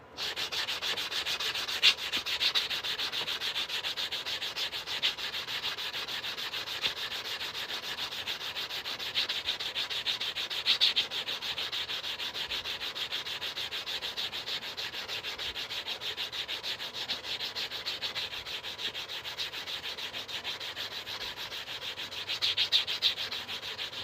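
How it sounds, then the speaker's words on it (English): Steady, continuous rasping of a nail file block rubbing back and forth over a metal ring made from a 2017 quarter coin, close and fairly quiet, with no talking. "we're going to take a nail file block and smooth those out"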